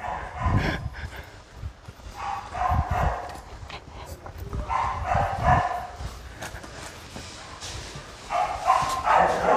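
An Akita dog barks and yips in repeated short bursts, fairly close, over a steady background with faint voices nearby.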